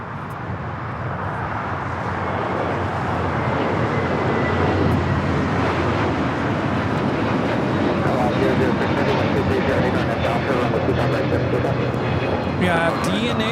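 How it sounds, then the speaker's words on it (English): An Air Tahiti Nui Boeing 787-9 Dreamliner touches down on runway 25 left at LAX, its broad jet roar swelling and staying loud and sustained from a distance, with a person talking over it. "Our next arrival is Air Tahiti Nui Flight 7 coming in from Paris on the 787-9 Dreamliner, now touching down on 25 left."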